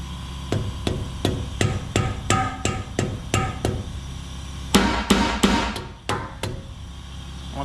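A hammer strikes repeatedly in a steady rhythm, about a dozen sharp close blows, followed by a louder burst of quicker, harder hits near the end.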